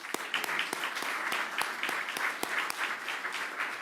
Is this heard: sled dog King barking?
no